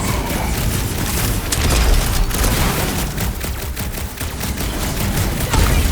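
Rapid gunfire in the Marvel's Guardians of the Galaxy video game, a dense, loud barrage of shots and booming impacts running continuously without pause.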